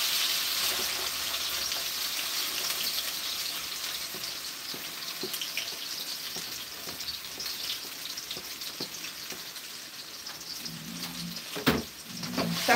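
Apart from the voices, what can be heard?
onions, bell peppers and tomatoes sizzling in a wok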